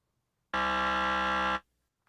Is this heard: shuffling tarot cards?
no